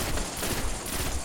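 Enemy gunfire in a Destiny strike on PlayStation 4 (The Dark Below) comes as a loud, continuous burst of rapid shots with no talking over it.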